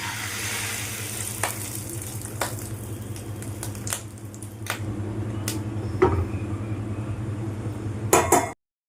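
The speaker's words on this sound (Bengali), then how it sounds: "তেলটা আমার গরম হয়ে গেছে এবার এটা আমি এর মধ্যে ঢেলে দেবো" A fish roe batter poured into hot oil in a pan sets off a steady sizzle and frying hiss, broken by sharp clinks of a utensil against the pot, then cuts off abruptly.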